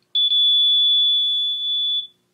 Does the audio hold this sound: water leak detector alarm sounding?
yes